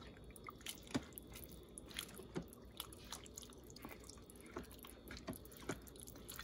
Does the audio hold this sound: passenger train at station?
no